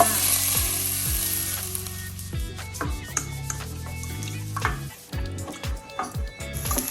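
Pork frying and sizzling in a pot for Korean kimchi soft tofu soup, a loud steady sizzle broken by repeated scraping and stirring strokes and clanks of a utensil, with no speech.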